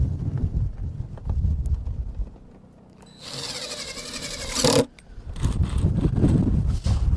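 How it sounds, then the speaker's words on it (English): Low, rumbling wind buffets the microphone, with a brief burst of bright rattling and clinking in the middle. "A little bit windy out here today"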